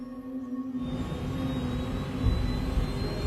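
A Germanwings Flight 9525 airliner takes off in a reenactment. Quiet at first, then a loud, steady jet roar swells after about a second and holds, with faint whining tones running through it.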